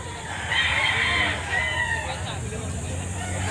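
A hen held at a gamefowl market in Lipa City, Batangas, clucking and crowing-like calls near the microphone over steady background chatter and low hum.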